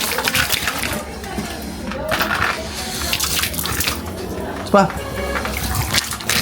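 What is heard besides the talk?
water poured to wash cobra venom from eyes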